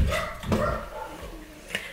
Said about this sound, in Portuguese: Vou só acalmar aquele cachorro ali.